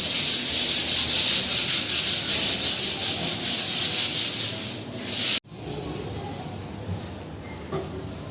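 Wall being sanded by hand, a loud rhythmic scraping rub that stops abruptly, leaving quieter room noise with faint knocks.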